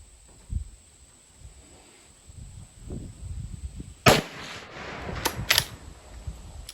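A 350 Legend Mossberg Patriot rifle fires at targets on an outdoor range. After quiet handling noises, three sharp reports ring out about a second apart, the last two close together.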